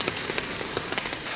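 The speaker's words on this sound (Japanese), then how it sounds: "豪雨というかね、すごい雨です。" Heavy downpour with big drops outside the Toyama prefectural office on a camper-van trip, a loud continuous wash with scattered sharper splats, some likely striking an umbrella overhead.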